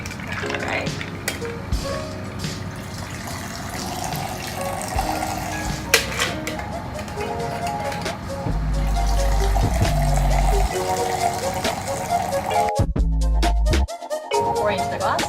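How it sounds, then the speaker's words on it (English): A bartender pours a cocktail into a glass with ice, a close, continuous trickling pour with light clinks of ice, partly under a voice talking. "Pour into the glass."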